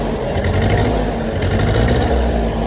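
A John Deere tractor engine idles steadily nearby, loud and continuous with a low throbbing rumble and slight irregular misses from worn spark plugs.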